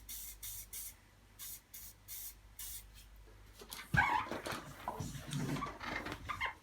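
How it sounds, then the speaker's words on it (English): Short hissing bursts from an aerosol can spraying lubricant into the brake pin of an UPPAbaby Cruz stroller, several quick sprays in a row, close up, followed by rustling handling noise. "I'm going to spray in here."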